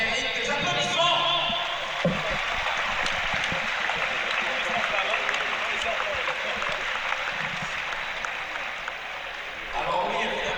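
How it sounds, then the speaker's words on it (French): Sustained applause from a large audience at the opening ceremony of the 2023 World Para Athletics Championships, a dense wash of clapping that fills the whole stretch and swells briefly near the end. "Je crois que ça mérite des applaudissements."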